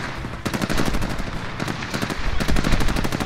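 Rapid automatic gunfire in the Call of Duty Modern Warfare video game, three dense bursts of sharp, close shots clattering one after another with brief gaps between them.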